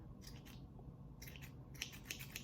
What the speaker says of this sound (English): you're going to take your scissors and just cut off the bits and pieces that are a little bit too long